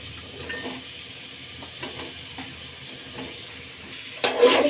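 Mushrooms are added to onions in a frying pan for a pea and mushroom stir-fry, giving a soft sizzle under light scraping stirs, then a louder splashy clatter at the end.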